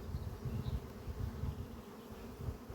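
A swarm of honeybees streams out of a hive with a dense, continuous buzzing drone of many insects, close and fairly loud, with no voices.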